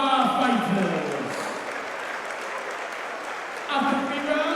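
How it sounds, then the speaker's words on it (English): Crowd applause at a Kingdom fight event, a steady wash of clapping filling the room for both fighters after three rounds, loud and sustained throughout with a voice emerging near the end. "can we please have a big round of applause for both of our fighters"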